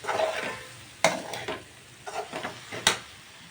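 A spoon stirring spices into a tamarind curry of drumsticks in a pan, with a soft sizzle under a few sharp scrapes and clinks against the pan, close and intermittent.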